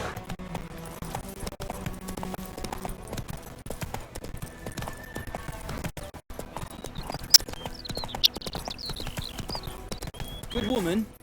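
Roach the horse gallops in The Witcher 3, with quick, even clip-clop hoofbeats carrying through the clip over ambient game sound, a short spoken line, and a brief louder burst near the end.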